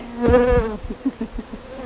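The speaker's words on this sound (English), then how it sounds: "Yeah, that's a lot of mosquitoes." Insects buzz close by on a hiking trail thick with mosquitoes, a loud whining drone for about half a second followed by several short, separate buzzes passing near.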